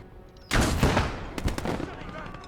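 A sudden burst of rapid automatic gunfire in a World War II video game erupts after a brief quiet moment, loud and close, with repeated shots trailing off into echoing reports.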